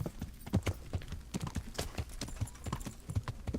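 Steady clip-clop of horse hooves at a trotting rhythm in the video game Kingdom Come: Deliverance, close and fairly quiet over a faint background hiss.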